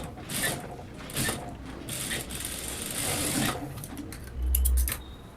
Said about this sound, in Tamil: இப்போது டாப் ஸ்டிச் வந்து நம்ம ஸ்டிச் பண்ணிக்கலாம்